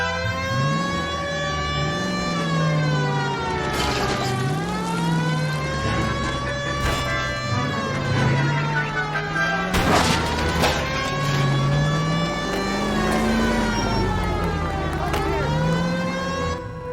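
Wailing police car siren in the video game L.A. Noire, loud and continuous, sweeping up and down in slow repeated cycles over a low engine drone.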